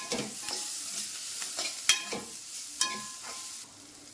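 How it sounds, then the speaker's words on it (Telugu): Chopped coriander and curry leaves frying in oil for tomato pepper rasam, a soft continuous sizzle broken by a few sharp utensil clinks and stirring scrapes, close up with no talking. "నూనెలో వేయించుకున్న తర్వాత కొత్తిమీర తరుగు కొంచెం కల్లేపాకు వేసి కొద్దిగా వేయించుకోవాలి"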